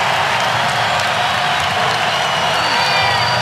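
A near-sellout crowd of over 9,000 fills a college basketball arena with loud, sustained cheering, applause and whoops, a dense continuous roar with faint commentary underneath.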